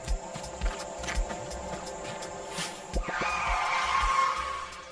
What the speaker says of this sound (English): Tire screech!